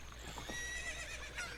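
A horse in the Ocarina of Time video game lets out a short, wavering neigh over a soft steady background hum, heard at moderate volume with no speech.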